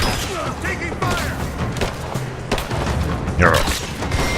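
Gunfire and explosions from the video game Rise of the Tomb Raider: heavy booms, thuds and scattered shots pile up in a busy, continuous barrage of combat noise.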